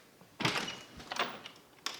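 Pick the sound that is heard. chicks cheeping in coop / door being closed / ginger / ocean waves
door being closed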